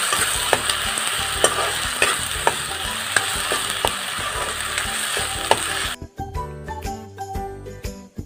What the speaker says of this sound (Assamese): পিঁয়াজ আদা নহৰুখিনি মই ভাল ধৰণে 5 মিনিটমান সময় ভাজি লৈছোঁ